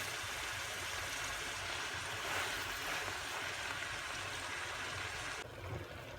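Madımak greens sauté in a pot while making soup, giving a steady, dense sizzling hiss that holds evenly throughout and eases slightly near the end, with no voices.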